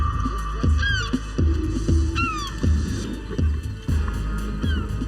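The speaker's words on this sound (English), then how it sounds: "I feel like I'm going to get attacked by a seagull any minute, man." Gulls guarding their nests call overhead with repeated, fairly loud descending cries at irregular intervals over a steady low throbbing hum, likely from a boat engine.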